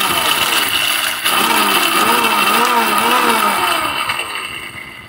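A mixer grinder runs on whole coffee beans with a loud, close, steady whirring motor whose pitch wavers up and down, dipping briefly once early on.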